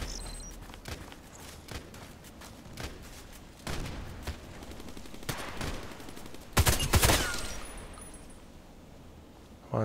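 Rifle shots ring out in a first-person shooter match with an HK417 marksman rifle, as scattered single cracks and short bursts of gunfire, one louder cluster near the end, over faint in-game movement and no talk.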